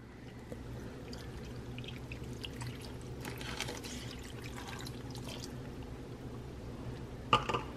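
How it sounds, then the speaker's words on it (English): Beef broth is poured over steak into a crock pot, a steady splashing stream that runs for several seconds before a brief clink near the end. "Then you're going to pour the beef broth over top."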